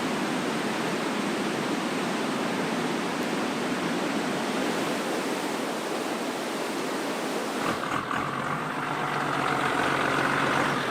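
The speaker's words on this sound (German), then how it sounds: "Ist total ruhig bis auf ja, das Rauschen des Flusses." Steady broadband rush of a river flowing beside a campsite, continuous and fairly loud throughout, with a slight shift in texture near the end and no voices.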